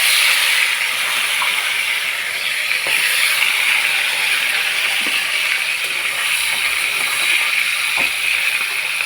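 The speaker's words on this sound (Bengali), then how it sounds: "কড়াইতে তেল দিয়েছি, তেল গরম হয়ে গেছে। এখন মাথাগুলো দিয়ে দেবো।" Fish heads rubbed with salt and turmeric fry in hot oil in a wok, giving a steady, loud sizzling hiss that runs unbroken throughout, with a few faint clicks.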